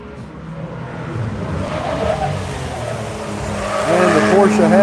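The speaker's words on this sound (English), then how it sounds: "There's Brian in his 86, starting lap number 3." A Toyota 86 race car laps a track during the Tire Rack One Lap of America event, its engine droning steadily and building louder toward the end, heard from a moderate distance.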